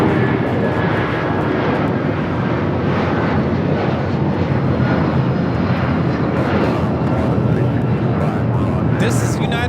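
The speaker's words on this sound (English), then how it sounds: "This is United Airlines 1939 taking off to Newark on the 757-200" United Airlines Boeing 757-200 taking off from LAX, a loud continuous jet engine roar holding steady throughout, with a voice speaking over it.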